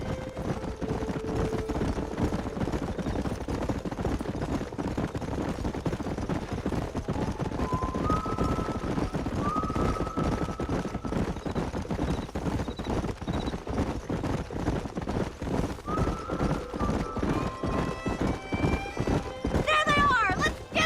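Horses galloping in the video game Red Dead Redemption, a steady, busy clip-clop of hooves with neighs and whinnies, under game music and characters talking.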